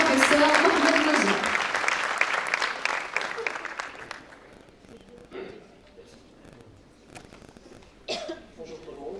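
An audience at a LeaderSHE Talks event at the École Mohammadia des Ingénieurs applauds loudly to welcome a professor to the stage, the clapping fading out over several seconds with a few coughs and scattered claps afterward.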